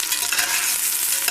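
Potatoes frying in hot oil in a home kitchen, a continuous bright sizzle with a bit of stirring, steady and close throughout with no voices.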